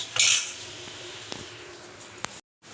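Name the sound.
spoon and plate being handled for serving food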